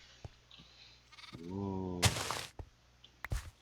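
Minecraft sheep bleat once in a wavering, harmonic bleat, followed by a noisy burst and a few short clicks, with a brief exclamation from a voice.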